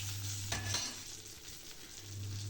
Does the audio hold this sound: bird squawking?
no